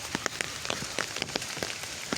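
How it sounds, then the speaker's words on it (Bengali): Light drizzle falls just before evening, a soft steady patter of raindrops with scattered brief ticks as drops strike nearby surfaces, close and fairly quiet with no voices. "সন্ধ্যার আগদা মুহূর্তেই হালকা হালকা বৃষ্টি হচ্ছে।"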